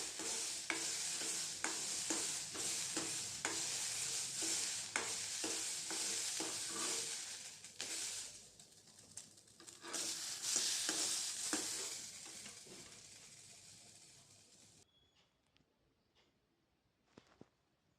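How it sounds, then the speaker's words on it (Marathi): Green peas roasting and being stirred in hot oil in a pan, a steady close sizzle with regular scraping strokes of the spoon, easing off and fading to near silence at the end. "तेलामध्ये छान भाजून घेऊ"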